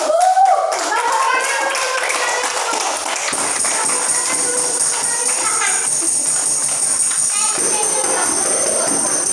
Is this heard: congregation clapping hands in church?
yes